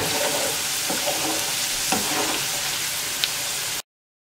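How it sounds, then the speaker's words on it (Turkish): Potatoes frying in oil in a pan, a steady close hiss and sizzle with a few soft stirring knocks, heard alone without talk. "Aynı şekilde kızartıyorum."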